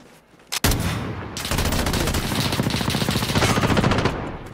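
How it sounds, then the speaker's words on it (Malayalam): An upgraded automatic gun firing in Call of Duty Modern Warfare multiplayer gunfight: a brief shot, then a long rapid continuous burst of loud, close gunfire lasting several seconds. "ഇതിൽ ഓട്ടോമാറ്റിക് ഈ ഗൺ അപ്ഗ്രേഡ് ചെയ്തിട്ടാണ് വരുന്നത്."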